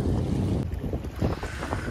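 Strong wind blows across an open field near Torrevieja in Murcia, Spain, buffeting the microphone with a steady, rumbling roar throughout and no voices.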